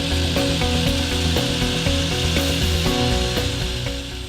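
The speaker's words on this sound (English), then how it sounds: "took it to the miter saw to match that line for the miter cut" Miter saw cutting slowly through a wooden board, a dense, steady grinding buzz with faint rhythmic ticks throughout, fading slightly at the end.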